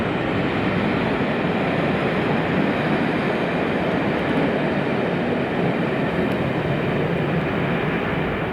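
Class 37 diesel locomotive 37403 approaching Linlithgow station in Scotland on a special from Bo'ness, a steady loud rumbling roar with heavy wind buffeting throughout, no voices.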